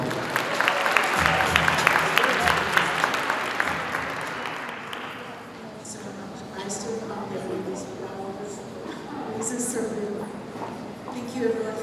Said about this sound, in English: One more time, round of applause for Gomi